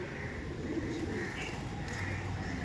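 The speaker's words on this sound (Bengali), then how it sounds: "দেখুন পায়রাগুলো দেখতে পাচ্ছেন আপনারা" Pigeons in a home loft coo softly amid a steady low background hum, with low murmuring calls and faint higher chirps spread through the short stretch and no clear talking.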